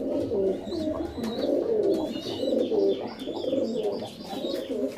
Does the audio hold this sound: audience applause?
no